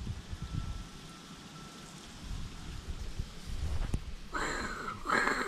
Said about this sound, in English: It just started raining after about 5 minutes of being here